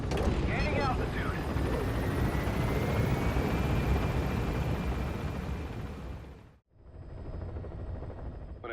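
A helicopter in the video game Metal Gear Solid V climbs with a steady loud rotor roar and rumble that fades near the end, then a quieter engine drone resumes.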